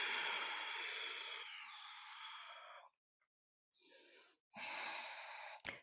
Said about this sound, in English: Yujai breath.